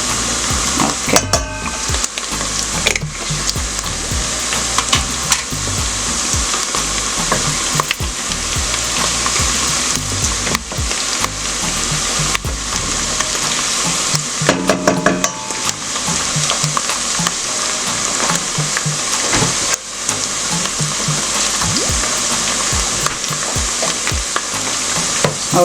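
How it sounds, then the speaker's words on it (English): Loud, continuous sizzling of vegetables frying in a pot, with occasional scraping and stirring clatter close by. "while it's frying"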